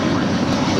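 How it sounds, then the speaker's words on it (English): A Delta Airlines Airbus A321, five years old, departs LAX with a steady, loud engine roar that fills the short moment without pause. "that is Delta Airlines 548 off to their hub at Atlanta. A 5-year-old A321"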